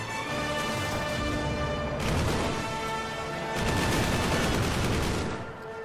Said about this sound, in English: Oh, it's a hull-mounted machine gun.